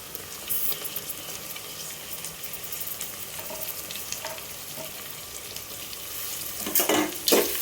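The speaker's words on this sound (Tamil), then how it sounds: "இப்போ இது ரெண்டுத்தையும் நல்லா நம்ம கிண்டிக்கலாம்" Tomatoes fry in a pan with onions and are stirred, producing a steady, moderate sizzle with scraping and a louder clatter of the spoon toward the end.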